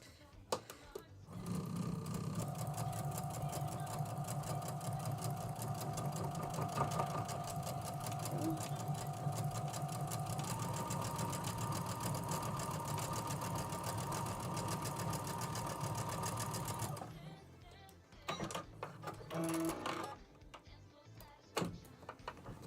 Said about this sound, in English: Sounds like I might have an empty bobbin.